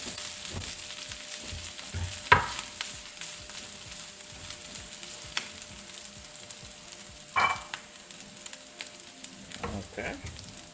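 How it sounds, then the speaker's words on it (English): Sausages sizzle in a pan alongside a warming tortilla, a steady close crackling fry with a few sharper pops and stirring scrapes throughout; no talking. "Alright, so I can add my sausages right now."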